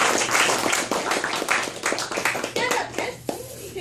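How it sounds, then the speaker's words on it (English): Guests at an anthology book launch clap together, a close, uneven patter of hands with distinct individual claps and a few voices mixed in, fading toward the end. "A round of applause to all of you"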